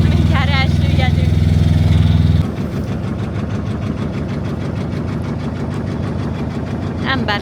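A small boat's outboard motor runs steadily and loudly close by, its drone shifting to a rougher, lower chug partway through, with a voice briefly audible near the start.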